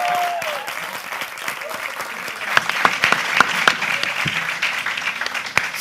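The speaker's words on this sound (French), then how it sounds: "applaudissements pour ces prestations." Crowd applause for performances at a judged show, sustained and loud with dense clapping and a few sharp individual claps, rising midway; a voice sounds briefly at the start.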